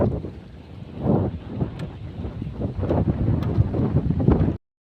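Wind blows on a mountainside, rumbling hard against the microphone in uneven gusts for several seconds before cutting off abruptly, with no voices.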